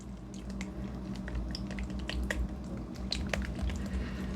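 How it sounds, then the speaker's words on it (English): Raw eggs being stirred to break up the yolks for homemade canned cat food, giving a run of soft, wet squishing and small clicking sounds at close range with no talk. "Break up the yolks."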